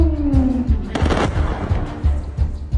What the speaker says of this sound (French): des explosions secouent Caracas